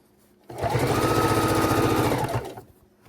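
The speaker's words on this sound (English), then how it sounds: "we're going to put the foot down and we're going to sew forward" A sewing machine stitches binding onto a quilt in one continuous run of about two seconds, its rapid even needle rhythm close and clear, starting and stopping abruptly with no talking.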